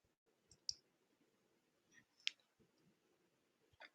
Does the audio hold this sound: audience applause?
no